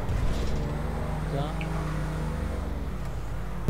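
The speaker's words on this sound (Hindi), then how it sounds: "कहीं से आवाजें आ रही हैं तेरी गाड़ी की" A car engine in the video game GTA 5 hums and strains steadily with a low droning tone, mixed under people talking, with a brief louder burst at the end.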